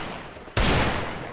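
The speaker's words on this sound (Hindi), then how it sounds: "अब मैं रिमोट शॉट मारने का ट्राई करूँगा" Gunfire in the mobile battle royale game Free Fire: a sudden loud sharp blast after a quieter stretch, then a sustained noisy roar that slowly fades.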